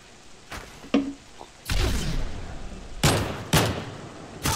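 Gunfire in a Modern Warfare 3 multiplayer match: several sharp, separate shots ring out, then a longer rattling burst, then a few more loud reports close by, with no talking.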